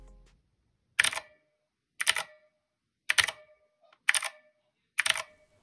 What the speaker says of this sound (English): you will always get this metallic reverb sound, which I believe comes from the aluminum plate.